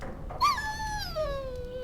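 A warhound in the Dragon Age Origins video game gives a single high whimper that slides downward and trails off into a long thin whine over a quiet low background.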